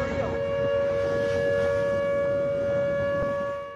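An aging outdoor tornado warning siren sounds a sustained steady tone at a distance, holding level before starting to fade near the end.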